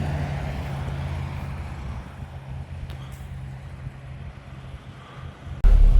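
Traffic on a tarred road through bushveld farmland, a low steady vehicle rumble with wind buffeting that fades somewhat, then a sudden loud thump near the end; no talk.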